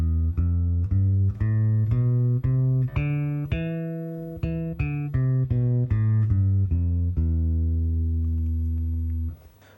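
An electric bass plays an ascending and descending E Phrygian scale, one clean sustained note after another at a steady pace, loud and close, with the last low note ringing out before a sudden stop.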